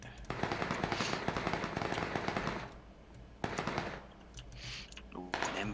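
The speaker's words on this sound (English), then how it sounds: "Yep, he's taking shots at me." Gunshots fired at the player in PUBG come as bursts of rapid cracking fire, fairly soft and somewhat distant. Quieter gaps separate the volleys, and a voice talks over parts of it.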